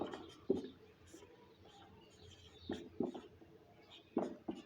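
A pen or marker writes out a maths problem in short, scratchy strokes, sounding faint and close, with small taps in between and a few bumps from handling.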